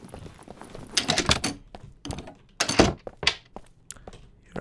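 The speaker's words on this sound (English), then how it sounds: "there's a new sound for hitting the doors, isn't there?" Repeated blunt thunks of a door being struck in The Dead Linger zombie survival game, several irregular hits with short pauses, fairly close and moderately loud.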